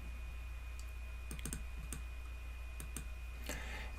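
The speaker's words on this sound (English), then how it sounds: "We're going to click on Download and then open the file." A computer mouse clicking on Download, heard as a handful of small, quiet clicks and taps spread irregularly over a steady low hum and a faint high whine.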